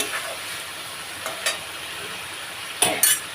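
Chicken pieces dropped into hot oily spice masala sizzle steadily, with a few sharp bursts of frying and scraping stirs near the end, close and clear with no talk.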